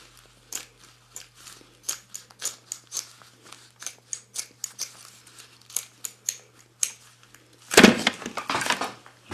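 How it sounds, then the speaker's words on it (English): Scissors cutting into a rubber football bladder, a steady run of crisp snips, close-up and alone, ending in a louder crinkling crunch as the material gives way. "I'll cut it open and show you the inside of the valve."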